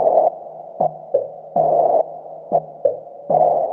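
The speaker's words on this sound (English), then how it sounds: "the song starts with this super cool noise pattern" Resonant synthesized noise pattern from a Nord Drum 3P, recreating the opening of a track: rhythmic tonal noise bursts, some long and some short, each with a low pitched resonant tail, played alone and fairly loud.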